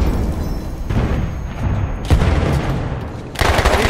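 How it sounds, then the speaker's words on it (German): Rapid bursts of video game gunfire on the Argonne Forest map, a submachine gun like the Annihilator, with sharp booming blasts such as a grenade explosion cutting in around the second and near the end. All of it is close and loud, with no talk. "Ich werfe eine Granate."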